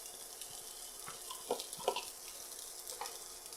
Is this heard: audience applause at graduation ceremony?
no